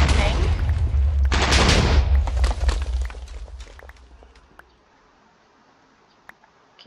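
A rapid-fire tank blasts away in a Minecraft Transformers mod game, loosing a dense burst of shots for about four seconds before fading to a few faint, scattered clicks.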